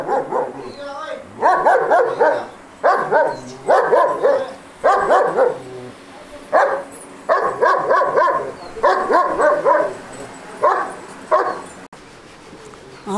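German dogs bark repeatedly in loud, close bursts of several yaps each, with short pauses between volleys, on a rural horse-keeping property.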